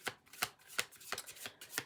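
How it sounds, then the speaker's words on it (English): Tarot cards being handled and shuffled, giving a run of crisp, close riffling and slapping bursts at a quick, uneven rhythm, fairly quiet and without talk. "I already started getting out some cards here."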